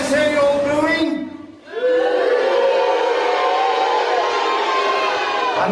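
Pantomime audience at a Puss in Boots show booing together on cue, a sustained loud crowd drone that dips briefly then swells again, with a voice heard at the start.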